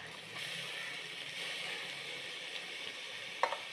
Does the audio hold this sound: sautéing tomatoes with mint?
yes